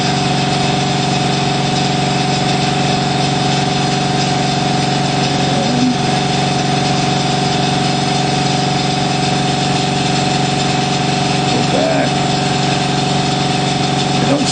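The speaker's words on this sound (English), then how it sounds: "That's my compressor." An air compressor for sandblasting runs continuously with a steady mechanical hum and tonal drone, loud and close throughout, no talk.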